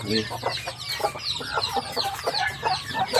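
Backyard farm chickens clucking continuously close by, overlapping hen calls in a busy rhythmic chorus with a low hum beneath.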